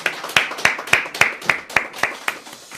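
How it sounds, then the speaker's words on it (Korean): Church congregation clapping together in a steady rhythm, about ten evenly spaced sharp claps, fairly close and distinct, with no talking over them. "우리 하나님 앞에 영광의 박수 한번 올리겠습니다."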